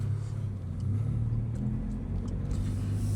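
Engine drone of a grey Subaru BRZ heard from inside the cabin while driving on a cloudy day, a steady low rumble at even loudness for the whole stretch with no talk.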